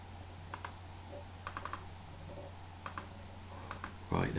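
A computer mouse clicks several times in quick pairs and small clusters, faint and close, over a steady low hum, with brief speech at the very end.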